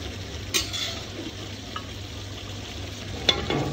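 Chicken sizzling and being stirred in a frying pan, a steady soft frying hiss with a few sharp scraping clinks of the spatula against the pan, close and moderately quiet, no talking.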